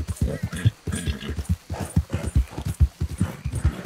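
Horse hooves clopping in a rapid galloping rhythm in Red Dead Redemption II Online, loud and close, with someone talking over them now and then.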